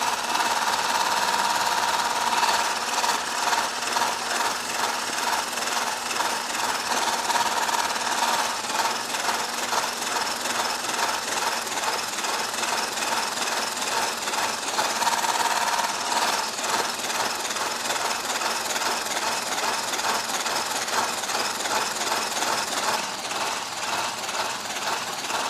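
Electric mixer whipping egg whites with sugar to stiff, glossy peaks for a chocolate soufflé, a steady close whirring drone holding at a constant loudness throughout, alone with no talk.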